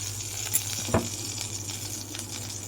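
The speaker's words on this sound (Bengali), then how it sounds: "কড়াই গরম হয়ে গেছে, তেল দিয়ে দেবো" Hot oil sizzles softly in a heated kadai, a faint, steady crackle with a couple of brief sharper pops.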